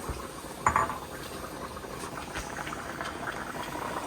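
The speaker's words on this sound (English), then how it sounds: "the water's boiling, so now I'm gonna add the hot water to it as well" Water boils steadily with a constant bubbling hiss, broken briefly by a light clink of a pot or utensil.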